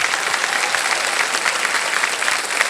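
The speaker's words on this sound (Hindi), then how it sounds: "तो इसके लिए भी हम आपके लिए ताली बजवा देंगे।" Studio audience on the set of Kaun Banega Crorepati applauding a contestant, a dense, continuous wash of many hands clapping at once, steady and fairly loud throughout.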